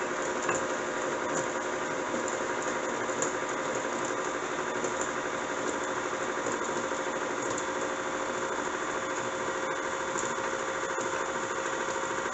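An electric mixer runs steadily on low speed as flour is mixed into coffee cake batter, a continuous even motor whir with faint rattling, no talking.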